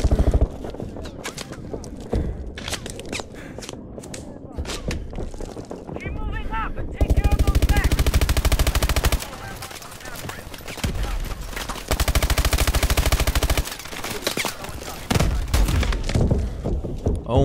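Bursts of rapid automatic gunfire from the video game Call of Duty: Advanced Warfare, loud and close, alternating with quieter stretches and heavy impact thumps.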